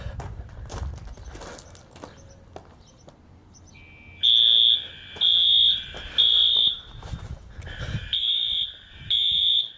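A loud, piercing DSC PC5010 security system fire alarm blares under a house in repeated long pulses, about five bursts with short gaps, after some quiet handling noises.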